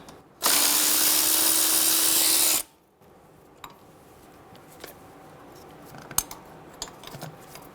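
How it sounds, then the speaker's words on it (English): A 12mm socket on a power driver spins out the strut bracket bolts on a 2011-2014 Hyundai Sonata front strut: one loud, steady whirring burst lasting about two seconds, then quiet with a few faint clicks and taps. "Using a 12mm socket, remove the bracket on the back of the strut."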